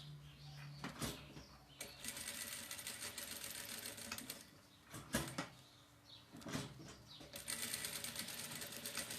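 A sewing machine stitches a seam on a boy's diaper-cover overall, running in several rapid whirring bursts separated by short pauses and clicks, fairly close and quiet.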